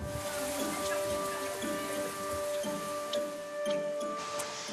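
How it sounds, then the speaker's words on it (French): Rain falls on a roof in Tahiti with a soft, steady patter and scattered ticking drops, faint and continuous, while a low sustained tone hums underneath. "avec la pluie qui s'abat sur le toit."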